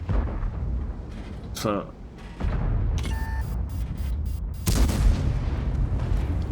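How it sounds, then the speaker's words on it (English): Tank cannon shots in World of Tanks, firing premium gold rounds against tier 10 vehicles: a couple of loud, boomy blasts over a rumbling battle backdrop, with someone talking over the gameplay. "I'm firing my gold straight away because I'm against tier 10s"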